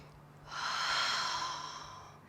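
A single slow, audible breath during an intermediate yoga flow, a soft airy exhale swelling in and fading over about two seconds, close and alone in a quiet room.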